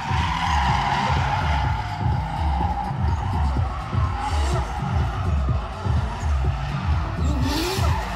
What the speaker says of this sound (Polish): a Piotr Więcek ma pokazać, że on potrafi go dogonić i jechać jego linią jako zawodnik, który jedzie w jego cieniu.